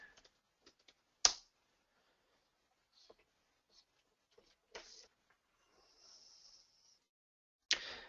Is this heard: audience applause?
no